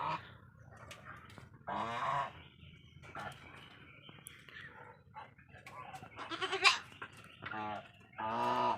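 Domestic geese penned behind a farm honk loudly and repeatedly to be let out, a series of harsh, nasal calls in bursts over quieter farmyard background.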